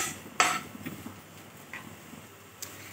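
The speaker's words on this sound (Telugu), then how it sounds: "ఇలా అంటుకున్నాక కొంచెంసేపు దీన్ని మాడనీయకుండా ఫ్రై చేసుకుందాం" Chapati noodles with masala fry in a pan as a utensil stirs them, giving a few sharp metallic scrapes and clicks over a faint low hiss, quiet and close.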